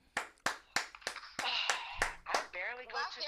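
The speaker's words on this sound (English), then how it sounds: "So let's clap for her." A small group claps for Cindy in a morning radio show studio, a handful of sharp separate claps followed by quicker overlapping ones as voices chatter and laugh over them.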